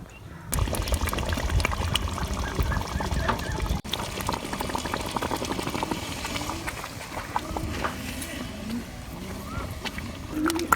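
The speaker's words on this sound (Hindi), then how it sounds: "तो ये देखें बबल बन रहे हैं।" A pot of sarson ka saag, mustard greens cooked village style, bubbles and simmers steadily with dense, continuous popping and gurgling close up, with no voices.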